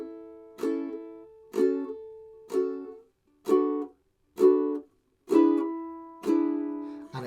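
Seven slow, evenly spaced downward strums of a ukulele, each chord ringing bright and close before fading, with brief silences between them.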